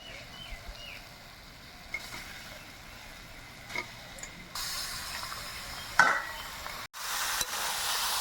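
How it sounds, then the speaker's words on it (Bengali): Meat goes into a pan of frying masala with salt and turmeric, setting off a rising, steady sizzle with a few clinks and stirring scrapes, close and moderately loud. "এবার এর মধ্যে মাংস দিয়ে দেবো।"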